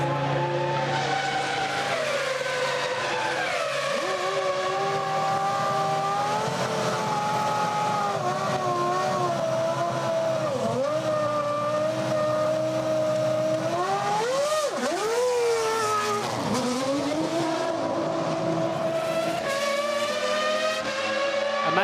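A Ferrari Formula One car pulls into the pits at the 2001 Italian Grand Prix, its high-pitched engine wailing continuously and loudly, the pitch sagging and climbing as it slows and shifts, with no talking.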